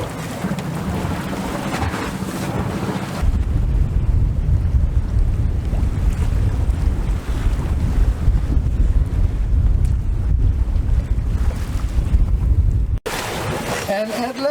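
A sailboat motoring at sea straight into the wind, with a steady low engine drone, rushing wind buffeting the microphone and waves washing against the hull, loud and continuous throughout.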